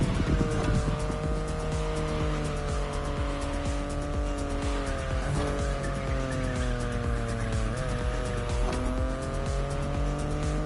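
BMW i8 engine drone in The Crew Motorfest, loud and steady with rising and falling gear pitch, tire squeal mixed in throughout the drive.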